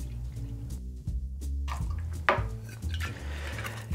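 Malibu coconut rum is poured for a Paradise cocktail, with a bottle glugging in uneven bursts, a few clinks of glass and metal, and a brief splash partway through, all close and without talking.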